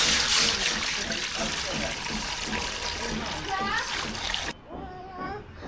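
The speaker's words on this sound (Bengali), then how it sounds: "আমি পানি দিয়ে দেব।" Water poured into a cooking pot on a stove, a loud continuous splashing and gushing that stops abruptly near the end, with a voice faintly audible underneath.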